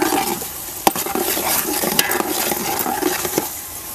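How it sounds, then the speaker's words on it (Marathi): Ingredients coated in masala being sautéed in a pan, with steady sizzling broken by sharp scrapes and knocks of a spoon stirring against the metal, close and continuous with no voices. "पूर्ण सगळं मसाल्यानं चांगलंसं परतायला पाहिजे"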